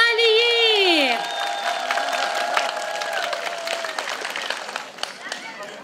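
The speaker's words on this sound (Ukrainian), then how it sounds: "Оплески Віталії!" Applause and cheering rise for a girl named Vitalia, wearing a white embroidered shirt, at a Green Holidays (Trinity) celebration; a voice speaks at the start, then steady crowd clapping carries on under more talk.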